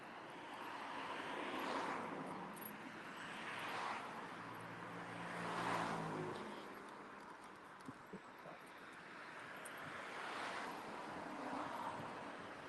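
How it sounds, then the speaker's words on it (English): Traffic on a busy road heard while walking, a continuous roar of passing cars swelling and fading every few seconds, fairly distant and moderate in level, without talk. "We're on a little bit busier road right now. You can hear traffic."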